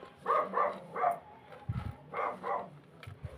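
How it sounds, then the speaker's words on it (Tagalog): A dog barks a few times at moderate distance, short bursts with pauses between, over low background noise. "Ang ingay ng aso sumasabay sa akin, ano?"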